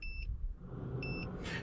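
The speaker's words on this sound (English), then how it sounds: "Going to beep 2 times." A BYD car immobiliser gives two short electronic beeps about a second apart over a low, steady background rumble.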